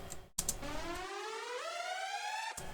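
An air raid alarm preset from Ableton's Operator FM synth: a synthetic siren tone sweeping steadily upward in pitch with rich harmonics, loud and alone after a brief burst at the start.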